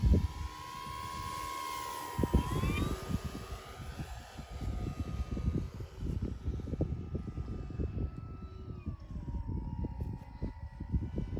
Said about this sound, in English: It's a beautiful flying plane.